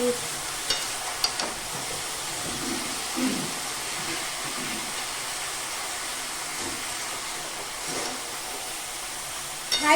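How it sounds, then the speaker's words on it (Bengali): Steady sizzling and hissing of vegetables frying on high flame for shukto, with occasional stirring scrapes and clinks, continuous throughout at moderate level. "সবজিটা হাই ফ্লেমে বেশ কিছুক্ষণ ভাজা হয়ে গেছে"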